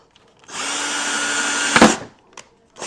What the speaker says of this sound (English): I'm just gonna go ahead and drill a few holes to add some more drainage to this guy.